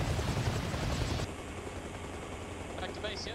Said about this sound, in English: Jump in the back of the chopper.